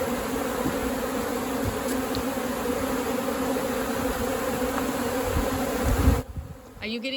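Dense, steady buzzing of a honeybee swarm during a native honeybee rescue in Manacor, Mallorca, a continuous close hum filling the whole stretch before the sound cuts down near the end.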